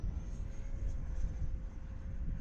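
A Freewing F-5N 80mm ducted-fan RC jet flies at a distance with a steady, even whooshing roar and a thin whine held at constant power through a turn, with no talking.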